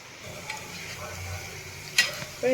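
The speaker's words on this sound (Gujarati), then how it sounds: "સ્લો ફ્લેમ ઉપર આપણે એકદમ સરસ ક્રિસ્પી થાય ત્યાં સુધી આપણે આને તળવાની છે।" Soft sizzling of potato chips frying in oil over a low flame, steady and low, with a couple of brief clinks near the end.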